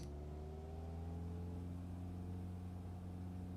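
An aircraft engine in Microsoft Flight Simulator 2020 spools up for takeoff as the brakes release, a steady loud droning hum with rising whining tones, continuous and unbroken with no talking.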